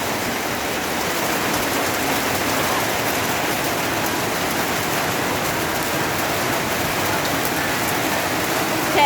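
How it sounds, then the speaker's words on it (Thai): Steady, heavy rain pours continuously, a dense hiss with no pauses and no voices. "ฝนตกหนักแล้วนะคะ"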